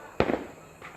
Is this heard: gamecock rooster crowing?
no